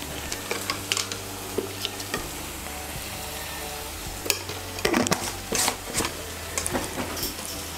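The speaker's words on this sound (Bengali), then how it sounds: "নুন আর চিনিটাকে মিশিয়ে নেব" Dhaba-style egg masala curry spices being stirred and fried in a pan with yogurt, tomato, salt and sugar, a soft steady sizzle broken by scraping clicks of the spoon.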